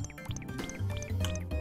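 A character splashing into a lake beside the Scarlet Devil Mansion in the Super Marisa Land video game, brief bubbly liquid plops and chiptune-like watery blips over steady game music, soft and close.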